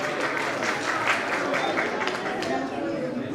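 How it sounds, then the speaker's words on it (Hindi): Moderate audience applause at a religious gathering with a Jain guru, continuous clapping mixed with crowd chatter and some voices underneath. "जोरदार तालियां"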